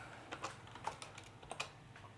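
Keys clatter on a computer keyboard as Python code is typed, a quick irregular run of close, light clicks with short pauses between them and no voices.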